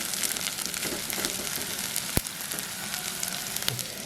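Chicken curry ingredients sautéing in a pan with salt added, a dense continuous sizzle and crackle with occasional sharp clicks, close and fairly quiet, no talking.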